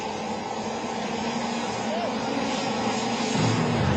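A Bugatti Veyron launching in a drag race against a jet fighter, heard as a loud, steady roar of jet and engine noise that swells slightly toward the end, with talk underneath.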